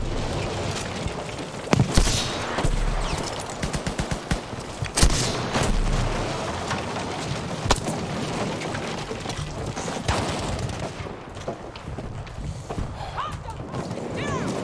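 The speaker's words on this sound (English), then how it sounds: "Toss a grenade! Explosive charge ready." A thrown grenade goes off during a firefight, sharp booming blasts standing out among scattered gunshots and clatter, with voices talking in between.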